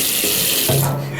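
Shower water pours steadily in a close, hissing stream as it runs over a keyboard being washed, the splash pitch shifting slightly as the flow hits the keys, with no talking.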